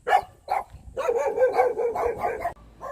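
A timid small dog barks a few times in short yelping bursts, close by, followed by a longer run of whiny vocalizing, in a rural Korean village setting.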